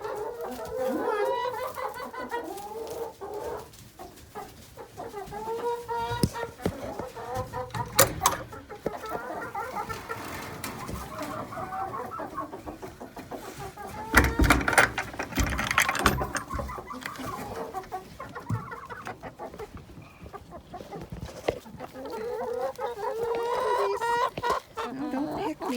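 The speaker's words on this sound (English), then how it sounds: "Oh, silly chickies." Backyard chickens cluck and chatter steadily throughout, with occasional louder squawks and a brief rooster-like burst near the middle, close by as they crowd around feed scratch.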